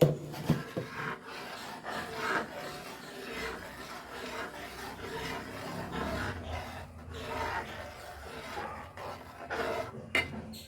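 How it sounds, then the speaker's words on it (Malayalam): A spoon stirs jaggery-sweetened kadala parippu (chana dal) payasam in a pot for Onam, making a continuous close scraping and rubbing against the vessel with irregular strokes and occasional small knocks. "ഒന്ന് ഇളക്കി കൊടുക്കട്ടെ"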